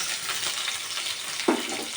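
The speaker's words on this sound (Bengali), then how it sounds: "আরেকটু ভালো করে ভেজে নেব" Onions sizzle steadily in a hot pan, a constant crackling hiss with a brief clink near the end.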